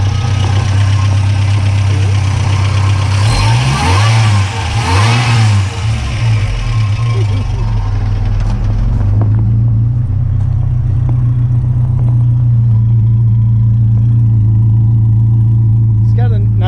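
A supercharged Toyota 22R four-cylinder engine in a 1960 Rambler revs up loudly a couple of times, then settles to a steady rumbling idle, with people talking over it.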